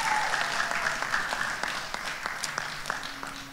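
Wedding guests at a church nuptial blessing ceremony clap together, a full round of applause that is loud at the start and gradually thins out toward the end.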